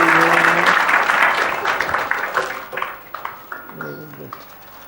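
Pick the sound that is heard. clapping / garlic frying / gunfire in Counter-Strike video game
clapping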